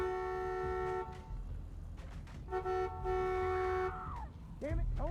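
Car horn in The Walking Dead video game sounding in several sustained honks, loud and close, the first long and later ones shorter, with brief mechanical noises between.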